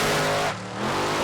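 Nitro and methanol drag race cars launch side by side at State Capitol Raceway, a loud, dense engine roar that dips briefly mid-launch and then surges back at full volume.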